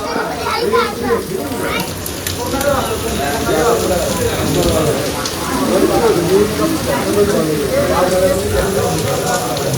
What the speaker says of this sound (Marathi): बघा पाऊस आलाय मध्ये, दाखवतो तुम्हाला